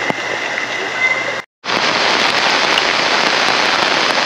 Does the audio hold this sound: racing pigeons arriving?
no